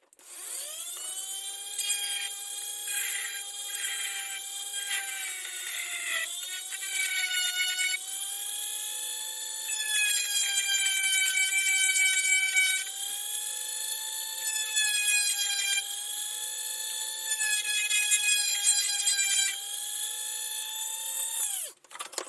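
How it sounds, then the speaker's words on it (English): A small electric drill whines continuously at high pitch, its tone dipping and rising as it bites into the plastic of a USS Enterprise-D model kit, with no voices. "Okay, so I'm going to drill up this section here."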